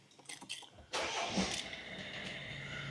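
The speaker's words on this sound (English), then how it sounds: "Let's get in the car, give it a big start." A 2019 Peugeot 308 with a stiff gearbox cranks and fires up after a few quiet clunks, then settles into a steady, fairly loud idle that fills the rest of the moment.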